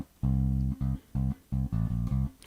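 A line played on electric bass guitar: a string of deep, ringing notes grouped in short phrases with small pauses, close up, alone with no talking.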